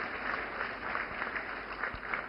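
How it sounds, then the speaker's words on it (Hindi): Applause from an audience at a government women's empowerment event welcoming honorees, a steady, dense wash of clapping that stays fairly faint and distant throughout. "तो जोरदार तालियों से स्वागत करें हमारी लखपति दीदियों का।"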